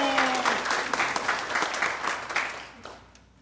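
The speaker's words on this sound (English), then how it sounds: "Oh wait, the crowd is supposed to go crazy" A crowd at a community service event applauds and cheers, many hands clapping loudly in a lively burst that tapers off toward the end over a few seconds.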